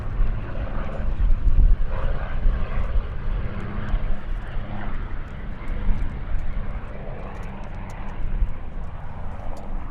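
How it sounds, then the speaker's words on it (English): A de Havilland Dragon Rapide biplane powered by Gipsy Six engines drones steadily at an airshow at Duxford, a continuous, fairly loud engine rumble lasting throughout with no gaps. "the Dragon Rapide is powered by the Gypsy 6, one of de Havilland's own power plants designed and produced in-house"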